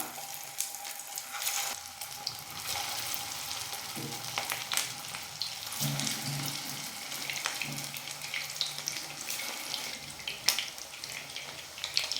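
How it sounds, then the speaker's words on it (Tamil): Potato cutlets fry in a little oil in a pan, making a steady, moderate sizzle with faint crackles and a few soft clinks throughout, with no talking. "இதில் நம்ம ரெடி பண்ணி வச்சுருக்கிற அந்த கட்லெட்டை எல்லாம் அதில் வந்து சேர்த்துடலாம்"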